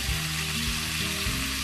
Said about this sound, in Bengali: ভেজে রাখা আলুগুলো এবার দিয়ে দিলাম।